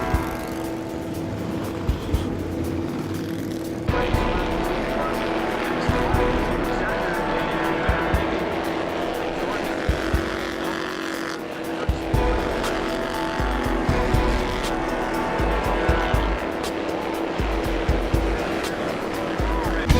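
Bandolero race cars, youth-driven machines reaching about 70 mph, roar around the Lake Erie Speedway track with tires squealing through the turns, engines loud and continuous with passing surges, while a voice talks over the action.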